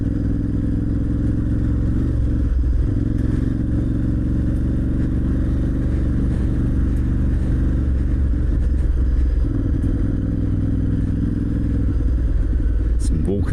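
A motorcycle rumbles steadily along a green lane byway trail, its engine droning loud and close with occasional clatter, while a rider talks over the noise.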